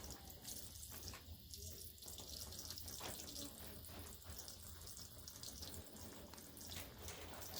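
Water gushes steadily from a hose to rinse an open wound during an operation on a toe, a continuous close splashing flow with no break.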